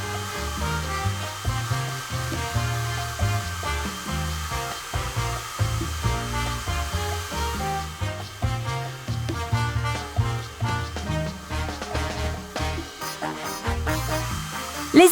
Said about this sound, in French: prends le sèche-cheveux et commence à souffler doucement sur les vagues que nous avons dessinées